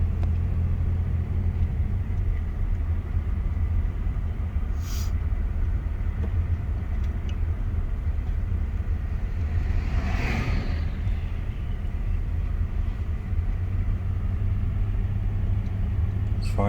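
A 1991 Chevy S10 pickup driving around a neighborhood, heard from inside as a steady, loud low engine and road rumble with no pauses and no talking.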